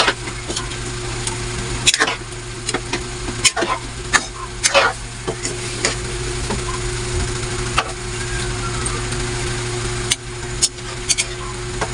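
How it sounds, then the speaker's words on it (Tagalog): Fried milkfish (bangus) stirred in a sizzling pan: a steady sizzle and low hum run throughout, broken by repeated sharp scrapes and clanks of the utensil against the pan, with no talk. "Haluin natin mga idol."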